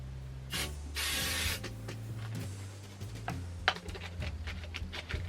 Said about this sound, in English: So we shake, we spray